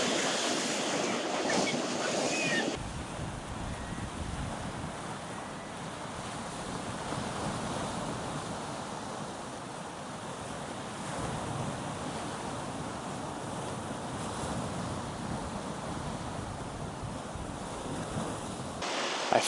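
Ocean waves crash on rocks along the Connecticut shore in a steady, broad wash of surf with wind noise against the microphone, moderately loud and continuous for most of the clip.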